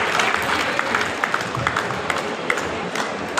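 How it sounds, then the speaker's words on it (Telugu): An audience claps continuously at an alumni gathering, dense overlapping applause filling the room at close range for a few seconds. "చప్పట్లు కొట్టాలి."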